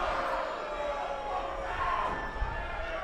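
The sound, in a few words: wrestling crowd making aggressive woos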